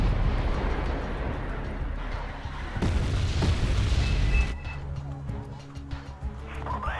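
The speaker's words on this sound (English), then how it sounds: "they're getting engaged, of course, by my my HE artillery and everything else on top" Rumbling explosive booms from high-explosive artillery fire in a war strategy video game, heavy low blasts building in the first seconds and then giving way to quieter battle noise and clatter.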